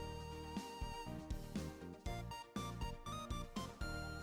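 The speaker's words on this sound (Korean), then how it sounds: "박 실장 전화 왔어." A phone ringtone plays as a rhythmic musical melody with steady beats, loud and continuous, with no talking over it.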